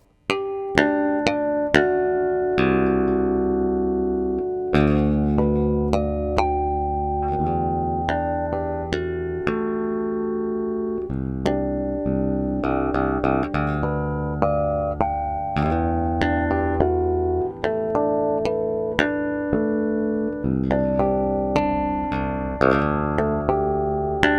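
Bell-like harmonics from a Cort GB Modern bass on the bridge pickup ring out in a continuous run of plucked notes, each chiming overtone sustaining and overlapping the next, played solo and up close.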